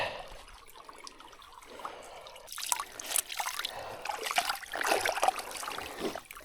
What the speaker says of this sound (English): There's a nice log right here that the creek's running through, and it's making a perfect little wash basin for my shoes and my feet